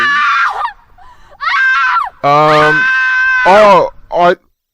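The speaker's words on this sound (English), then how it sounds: "it sounds like there's a woman screaming in the background as if something terrible is happening to her" A woman screams in the background in several separate drawn-out wailing bursts of rising and falling pitch, loud and close, with short silences between them.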